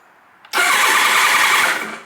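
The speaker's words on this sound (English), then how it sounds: "So it kicks over." A 1980 Kawasaki KZ1000 LTD motorcycle engine cranks over with the starter, a loud close, steady whirring churn that kicks in abruptly after a brief quiet moment and runs without catching.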